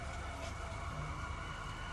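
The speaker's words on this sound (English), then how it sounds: "Let me lower some sirens here." A city soundscape from Syrinscape with emergency sirens wailing faintly in the distance over a steady, dense wash of urban noise, continuous and unbroken throughout.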